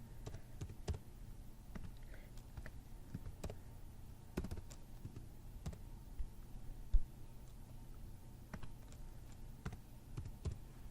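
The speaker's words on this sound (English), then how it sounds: "I'm just going to go ahead and type those in" Soft, irregular key clicks from a computer keyboard as answer choices are typed for a quiz form, quiet and close with uneven bursts and short pauses.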